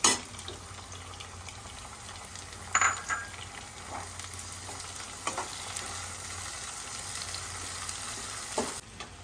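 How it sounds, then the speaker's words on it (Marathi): Onions and tomato frying in a pan for a Vidarbha ukadpendi dish, a continuous hiss of sizzling with intermittent scraping and stirring knocks. "कांद्याला बदामी रंग आला की त्यात टोमॅटो टाकायचा"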